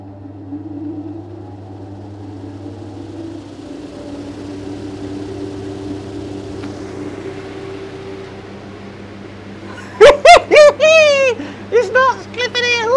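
A wood lathe hums steadily as it spins up a large pippy oak wall art blank, a low continuous motor tone with rising pitch, before a voice talks loudly over it near the end.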